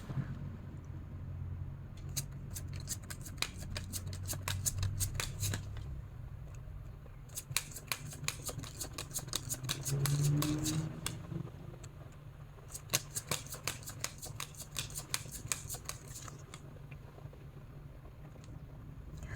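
Tarot cards are shuffled and drawn: quiet bursts of rapid, crisp card clicks and riffles, broken by short pauses, with a soft background hiss.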